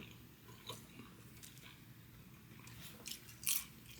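Someone bites and chews a Papa John's crispy pepperoni cup pizza close up, with soft, quiet crunches and mouth sounds scattered through the stretch and a couple of sharper crispy bites toward the end.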